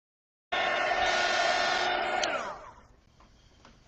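Hair dryer blowing on a watercolour painting, switching on abruptly with a loud steady whine and rushing air for about two seconds, then cutting off and winding down to a quiet room.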